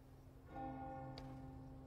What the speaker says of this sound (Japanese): 鐘の音に導かれてるんですね彼らは。